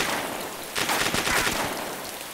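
Gunshots fired at fish in a tank come as a rapid burst of close, sharp cracks in the middle of a steady hiss of background noise.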